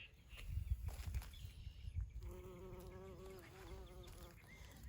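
Bumblebees buzzing as they pollinate jalapeño, cayenne and bell pepper plants in a garden; a close, sustained droning hum with wavering pitch as the insects move between flowers, heard alone over faint low background rumble.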